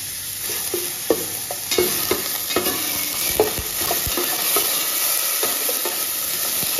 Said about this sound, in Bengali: আদা রসুন আর লঙ্কা বাটা। দিয়ে আবার ওটাকে একটুখানি সাঁতলে নেব।